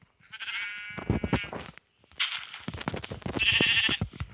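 Sheep in the Minecraft video game bleat several times, with wavering, nasal calls close and clear, one after another, and short gaps of silence between them.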